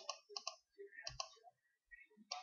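A computer mouse clicks while tracing a selection with a pen tool, a quiet series of crisp, irregular clicks close by, some in quick pairs with short gaps between.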